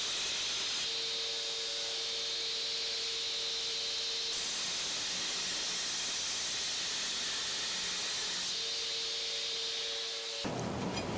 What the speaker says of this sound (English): Grinding this is so much harder than a chef's knife because it's so wide and it's so long